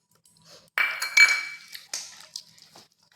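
Spoon clinks and scrapes against a bowl as chopped cashews and raisins are stirred into a batter of palm pulp, sugar and coconut, in a few close, irregular bursts of clatter.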